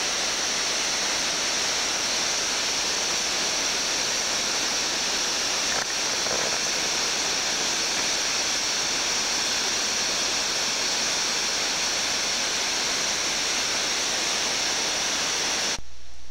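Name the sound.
waterfall off a cape in the Arctic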